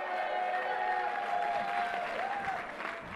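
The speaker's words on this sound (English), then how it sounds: "Give her a round of applause." Audience applause at a press briefing with New York Governor Kathy Hochul, a steady wash of clapping from the room that holds for several seconds, with some voices and cheering mixed in.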